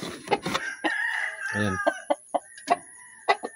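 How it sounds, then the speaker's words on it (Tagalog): Backyard chickens cluck in short, sharp bursts near the mic while a rooster lets out a brief crow at feeding time; someone speaks a single word. "Mamahog muna ako ng pagkain muna ako sa manok ko."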